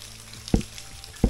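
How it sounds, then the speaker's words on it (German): Water drips and splashes down from the ceiling of an abandoned mine shaft, two distinct close splats about 0.7 seconds apart over a steady low hiss of running water, with no talk. "Okay, das Plätschern kommt hier von der Decke."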